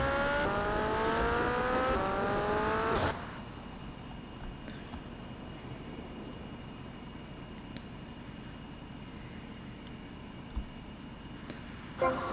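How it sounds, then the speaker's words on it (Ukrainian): Motorcycle engine in GTA Vice City revving loudly with rising whine during a stunt jump run, then cutting to a low steady rumble with faint background noise after about three seconds. "спочатку я знайду мотоцикл, а потім продовжимо"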